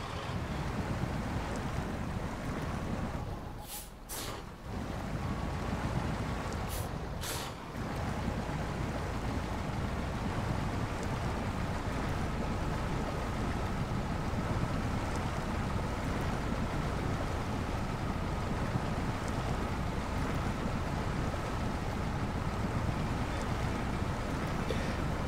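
A truck in the SnowRunner video game ploughs through water, giving a loud, steady rushing wash that runs throughout with two brief dips.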